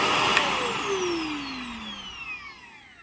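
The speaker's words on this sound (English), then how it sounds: "Kind of a strange motor wind down sound" A Shark NV355 vacuum motor, just fitted with a replacement main pod, whines loudly and then winds down, its falling pitch sliding steadily lower over a few seconds with no talk.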